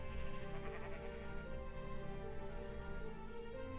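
Sheep bleat in the video game Minecraft, a faint, continuous wavering baa that carries through the brief moment alone.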